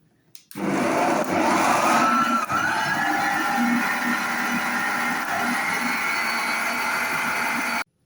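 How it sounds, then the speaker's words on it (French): An electric whisk beats a mixture of cream, mascarpone, sugar and chestnut cream. It starts abruptly with a steady, close motor whir that runs continuously for about seven seconds, then cuts off. "On va fouetter le mélange et il sera prêt quand il se décolle des parois"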